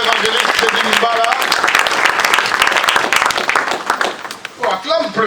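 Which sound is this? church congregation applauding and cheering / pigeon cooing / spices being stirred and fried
church congregation applauding and cheering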